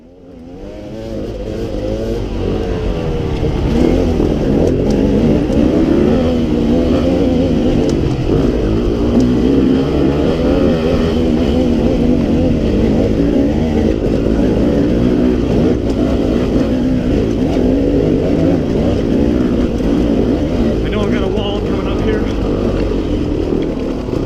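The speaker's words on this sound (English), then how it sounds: "And it's just easier to climb this hill on a 2-stroke." A KTM 300 XC two-stroke dirt bike climbs a hill on the Razorback Trail, its engine loud, close and continuous for the whole stretch, with rising and falling revs and no pause.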